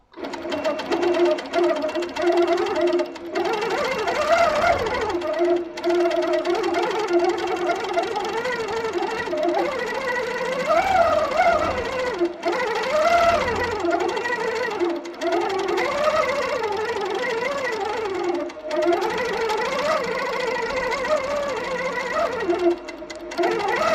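A Handi Quilter Sweet Sixteen sewing machine quilting with stitch regulation runs as a loud, steady, close-up mechanical whir, its pitch rising and falling with speed across the whole stretch, with only brief dips.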